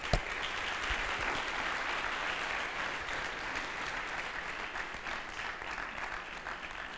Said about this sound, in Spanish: Vamos a darle un fuerte aplauso para agradecerle que está aquí